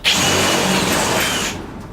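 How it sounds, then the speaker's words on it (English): A power drill bores a hole in a shed door to fit a guide pin, a loud close whirring grind for about a second and a half before stopping abruptly. "I'm just going to drill out a hole"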